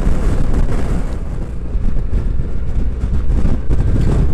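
Strong wind of about 25 to 30 mph, gusting to 40 to 45 mph, buffets the microphone with a constant low roar, surging and easing in gusts throughout, with no voices.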